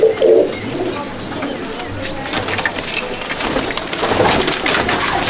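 Low throaty cooing from a Sylheti breeder female pigeon comes in a short burst at the opening and again faintly later, over a steady background hum of other birds and movement.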